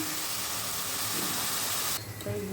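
Small onions sautéing in hot oil in a pan for biryani, a steady close sizzle and hiss that drops off abruptly near the end.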